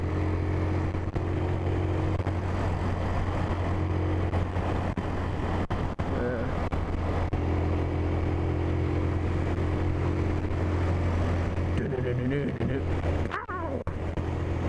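Motorbike being ridden on an evening road, its engine a continuous low droning hum with wind noise over it, close, and a rider talks throughout.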